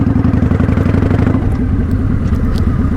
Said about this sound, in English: shift to third. I let out the clutch a little bit and give it some gas